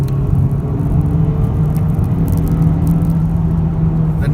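Honda Civic Type R engine pulling hard after a downshift, a steady loud droning rumble with a firm low tone and whirring road noise, continuous and close with no talk.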